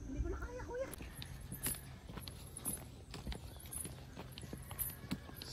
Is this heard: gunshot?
no